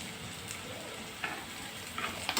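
Chopped onion and capsicum sizzle steadily while being stir-fried in a pan for a chili soybean dish, under a constant crackle with a few brief scraping stirs.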